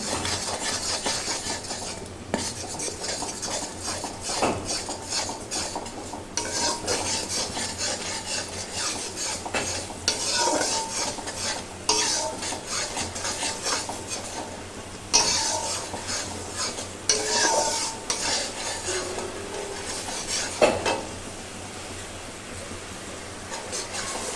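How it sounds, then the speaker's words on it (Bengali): Spoon scrapes and stirs turmeric, salt and spices in hot oil in a pan for fish curry, a quiet, irregular rubbing and scraping that continues throughout. "আর হলুদ দিয়ে দিলাম ভালো করে তেলটা মশলাটা নাড়িয়ে নেবো"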